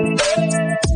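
An AI-generated upbeat future bass track with chopped vocal samples gives a short burst of bright, pitched synth and vocal-like tones that cut in and out sharply within one second.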